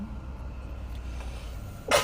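A girl sneezes once, sharp and sudden, near the end of an allergy attack inside a car, over a low steady cabin rumble.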